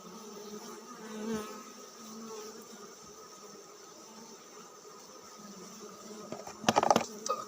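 Honey bees buzz around a hive during a hive inspection by a beekeeper. A faint, steady hum holds throughout, with a louder, closer burst of buzzing near the end.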